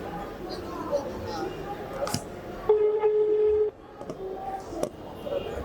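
A phone call rings out as a single steady ringback tone lasting about a second, with soft clicks before and after and people chatting quietly around it.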